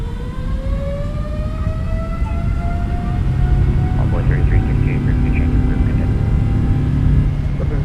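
Jet engines of a PMDG 777-300ER in a flight simulator spool up to takeoff power, a loud roar with a rising whine that climbs steadily, the low rumble growing as the aircraft accelerates, with speech over it.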